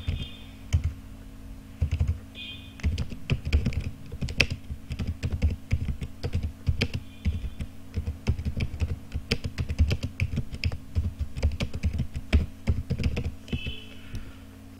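Keys on a computer keyboard clatter steadily as text is typed into a form, with close, fairly quiet clicks in uneven runs over a constant low hum.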